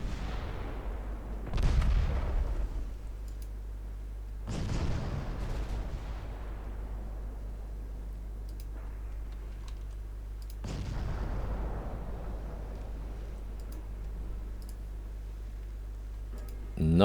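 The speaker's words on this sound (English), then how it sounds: "You can already set the secondary guns to fire at Halsey" Warship secondary guns fire in a naval video game set in the 1954 Norwegian campaign: three loud booming shots around two, five and eleven seconds, each decaying slowly over a steady low engine drone.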